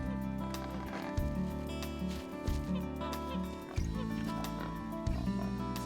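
A bird at a bird park gives a repeated low, grunting call much like a pig, four long honking bursts in steady rhythm, close and loud, with no talking.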